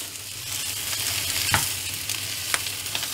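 Leeks for a quiche cook in a pan, giving a continuous close sizzle broken by a couple of brief scraping clicks from stirring.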